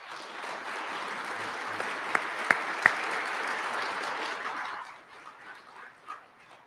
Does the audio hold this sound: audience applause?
yes